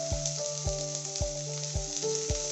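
Turmeric, chili and coriander powders sizzle in hot oil for a Kerala-style egg curry, with a soft steady fizz under regular ringing clanks of a spoon stirring against the metal pan.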